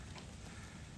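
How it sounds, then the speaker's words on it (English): Steady, dense rain falls in a continuous close-up wash with no break, rain heavy enough to make driving at night a concern. "raining like crazy here, so I gotta drive in this tonight"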